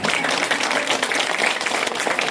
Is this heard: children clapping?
yes